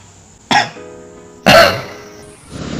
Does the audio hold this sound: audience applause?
no